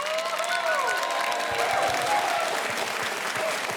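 An audience bursts into sustained clapping and some cheering after a live piano-and-vocal performance of a pop song, a dense, loud wash of applause that continues evenly throughout.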